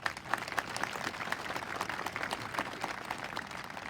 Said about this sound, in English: How about a round of applause for the conditions of the grounds?